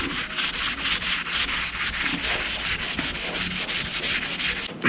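Steady, close scrubbing of polishing compound on a crusty old aluminum car wheel, a continuous rhythmic abrasive rubbing with quick back-and-forth strokes throughout.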